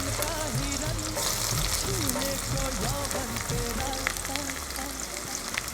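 Onions fry in mutton fat with browned sugar for a homemade ghugni, hissing and crackling in a constant dense sizzle with occasional stirring, while a faint voice sounds in the background.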